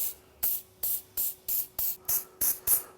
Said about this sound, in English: give it a good wipe down with some brake cleaner